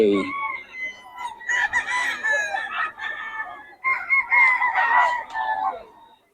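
A large rooster at a poultry market in Bocaue crows twice, loud and close, the long strained calls following a brief low sound at the start.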